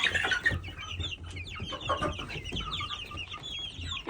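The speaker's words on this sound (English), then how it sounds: "our meat birds over here. They're getting bigger." Meat chickens in a backyard coop on a spring morning cluck steadily at close range, several birds overlapping in a busy chorus with no talk.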